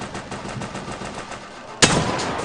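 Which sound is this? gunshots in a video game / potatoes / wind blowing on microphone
gunshots in a video game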